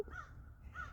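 A crow caws twice, with harsh calls near the start and again near the end of one second, heard outdoors during casual birdwatching over a low background rumble.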